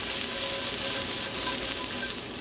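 Chicken pieces frying undisturbed in a pan over medium heat for French onion chicken, a steady, close, dense sizzle and crackle with no voices.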